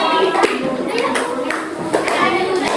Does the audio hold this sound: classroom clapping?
yes